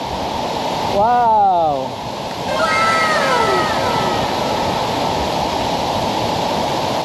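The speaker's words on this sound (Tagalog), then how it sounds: "At tingnan nyo naman, ang ganda ng waterfall." Guiritsan Falls in Igbaras, Iloilo, pours with a steady, full broadband roar of falling water that runs unbroken throughout, while people exclaim and talk over it near the start.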